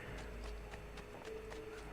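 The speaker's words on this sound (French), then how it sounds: "Un cheval, appuie sur A pour le monter." A horse's hooves clip-clop in a steady, even rhythm in Assassin's Creed II, several evenly spaced hoofbeats over a dense, constant background of game ambience.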